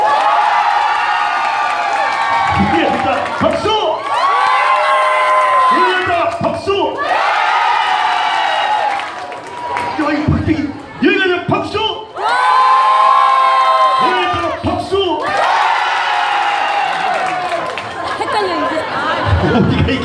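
A lively crowd at a Korean bathhouse dance-off show claps, cheers and whoops in loud bursts, with shouting voices and chatter rising and falling throughout.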